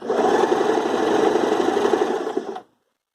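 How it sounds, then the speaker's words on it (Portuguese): Sewing machine running a zigzag stitch to attach a button, a steady close mechanical whir with rapid needle ticking for about two and a half seconds before stopping abruptly into silence. "vou voltar para o ponto zigue-zague na máquina"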